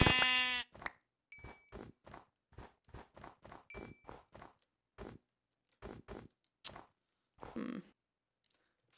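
Sheep bleating in the video game Minecraft, a couple of short bleats among many quick clicks and footstep-like taps, close and fairly clear against silence.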